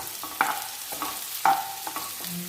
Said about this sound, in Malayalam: വഴറ്റിയെടുക്കുക നല്ലോണം അതിൻ്റെ പച്ചക്കുത്തൊക്കെ മാറി നന്നായി വഴണ്ട് കിട്ടണം